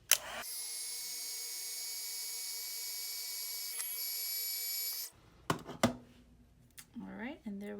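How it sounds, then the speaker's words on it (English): A heat embossing tool set to setting 2 melts embossing powder on cardstock, its steady, loud blower whine and hum running unbroken for about five seconds before cutting off, followed by clicks, handling noises and a brief voice. "let's go ahead and use our heat tool and heat set this"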